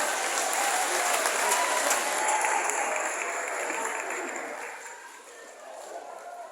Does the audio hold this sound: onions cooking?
no